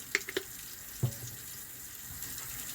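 A bathroom tap runs water over a toothbrush being wetted, a soft steady flow with a few brief splashes and knocks near the start, close by and without talk.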